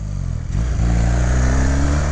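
A 1981 Honda CM400T motorcycle fitted with a custom exhaust and running slightly lean idles loudly up close, blips the throttle in a brief rev, then settles back into a steady rumbling idle.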